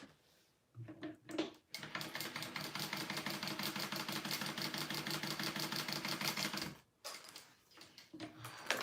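A home sewing machine runs in one steady, fast burst for about five seconds, basting down the bottom edges of a Delmar wristlet, close and clear, with a few short handling sounds before and after.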